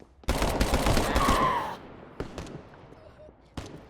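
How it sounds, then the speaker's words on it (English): Gunfire in the video game The Culling 2: a loud close burst of shots rattles for over a second, then a few isolated sharp cracks follow at intervals. "I tried switching to my shotgun to take out this enemy"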